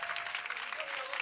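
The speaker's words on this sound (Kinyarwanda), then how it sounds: "Imana muyongera amashyi menshi cyane" Congregation applauding during a church prayer service, a steady wash of clapping hands that stays dense and even throughout, with no speech over it.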